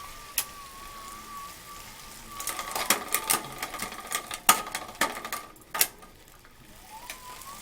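Minoura Mag M80-RW indoor bike trainer running under pedaling, a faint steady whine near the middle range joined by rapid clicking and rattling bursts from the bike frame as the rider gets out of the saddle.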